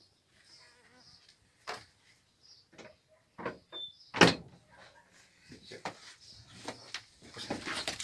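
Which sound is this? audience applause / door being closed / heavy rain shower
door being closed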